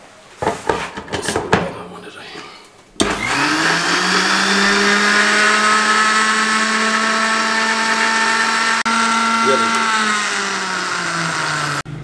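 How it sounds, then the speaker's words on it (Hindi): A mixer grinder whirs loudly and steadily as it grinds capsicum chutney, starting after a few seconds of clattering handling noises and then holding a high, even motor whine to the end. "ऊपर कवर लगा दें, इसको दोबारा से ग्राइंड कर लें।"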